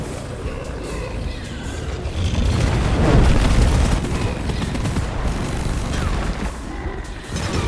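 The Lacerator's fireball attack erupts in Deep Rock Galactic as a dense, rumbling burst of booms and crackling blasts, swelling around the middle and lingering as a noisy roar of combat.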